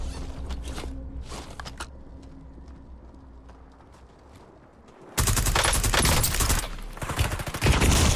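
Gunfire in Call of Duty Warzone, a loud, dense burst of rapid shots erupting about five seconds in after quieter footsteps and scattered distant pops.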